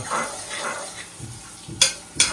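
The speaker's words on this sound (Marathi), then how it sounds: "चमच्याने मिक्स केलं पाहिजे" A spoon stirs onions frying in oil, giving a soft scraping and sizzling texture, with two sharp metallic clacks of the spoon against the pan near the end.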